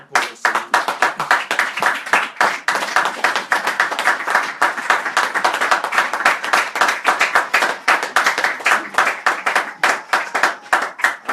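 A church congregation claps in steady, rhythmic unison, loud and close, a dense run of sharp hand claps repeating for the whole stretch with no talking over it.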